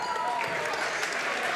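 Basketball crowd of super fans at a high school game applauding steadily, a dense, even wash of clapping and crowd noise at moderate distance.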